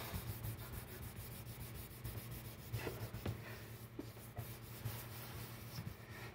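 Hand sanding rubs over the clear finish and coloring on a resonator, a faint, steady back-and-forth scratchy friction close by with no speech.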